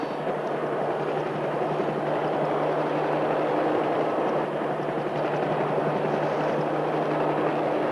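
Helicopter flying overhead before landing in the Newfoundland wild, giving a loud, steady rotor and engine roar that holds constant throughout with no voices.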